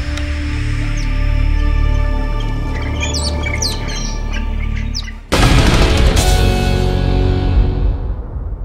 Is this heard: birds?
yes